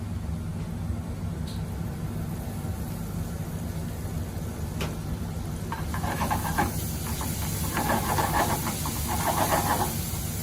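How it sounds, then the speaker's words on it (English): White wine hits a hot pan in a kitchen and sizzles into a steady, close hiss that swells louder and busier toward the end. "Now you add in the white wine."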